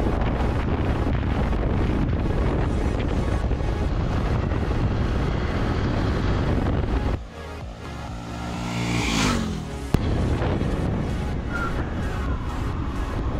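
A Yamaha FZS V3 motorcycle accelerates in fifth gear. Heavy wind roar buffets the microphone over a droning engine, which surfaces briefly when the wind drops midway before the roar returns.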